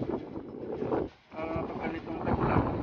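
Strong wind at Navotas fishport buffeting the microphone in gusts, with a brief lull in the middle before the rushing roar picks up again.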